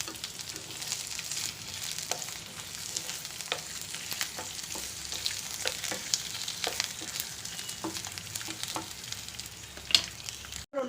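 Three cut dried red chillies frying in hot oil in a pan for potato 65, giving a steady loud sizzle with scattered crackles and occasional stirring scrapes, with no talking.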